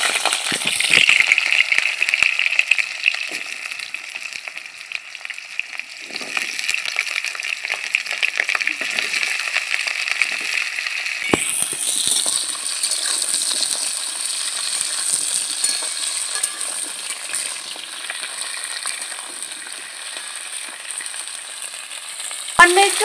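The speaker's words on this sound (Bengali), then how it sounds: "পটল আর আলু একসাথে আমি ভেজে নিচ্ছি।" Pointed gourd (parwal) and potatoes fry together in a pan with a steady, loud sizzle and crackle throughout, a few clinks and stirring scrapes, and the hiss shifting brighter partway through.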